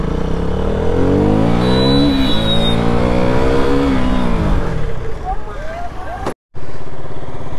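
A motorcycle engine revs hard and rises in pitch during a wheelie attempt on an Independence Day group ride, loud and close, with people talking over it before it cuts off abruptly.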